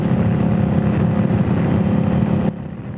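A 2021 Indian Scout Bobber Twenty cruising down historic Route 66 gives a steady, loud engine drone mixed with wind rush, holding an even tone before dropping abruptly in level near the end.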